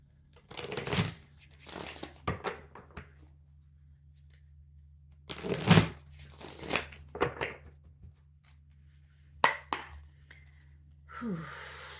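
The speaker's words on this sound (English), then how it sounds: "right, let's get some tarot. Shuffle." Tarot cards shuffled by hand in several separate bursts of quick riffling and flicking, close up, with quiet pauses between them and a soft breath near the end.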